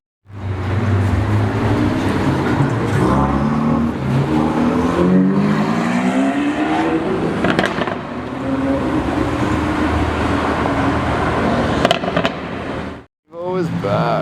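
A Ferrari 488 and a Lamborghini Aventador S rev loudly close by, their engine notes sweeping up and down in pitch over a continuous roar before a brief cut near the end and another short burst.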